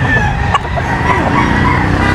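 Black rooster crowing loudly nearby, with scattered clucks from other fowl and a steady background din throughout.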